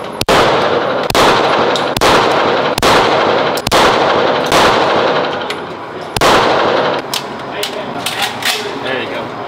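Repeated gunfire at a shooting range, loud sharp reports roughly every second with ringing metallic echoes, then a quicker cluster of shots near the end, while a voice talks underneath.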